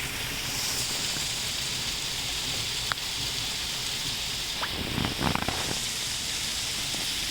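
Hail mixed with rain pours down outdoors in the Netherlands, a dense, steady hiss of pattering ice with a few sharper nearby impacts toward the end, and no voices.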